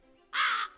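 One harsh, close bird caw rings out in the video game Tribloos 3, a single rasping call lasting about a third of a second over a quiet game background.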